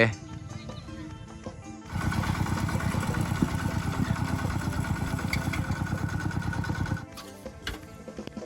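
A farm tractor engine runs as a pond pump is set up at a rural home, starting with a quieter idle and then a steady, pulsing mechanical chug that runs for several seconds before dropping back. Voices talk over it.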